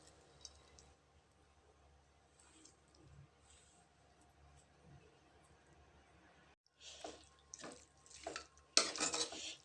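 Spinach greens with peanuts and coconut stirred in a pan, scraping and clinking faintly at first, then growing louder in several bursts of metal-on-pan stirring near the end.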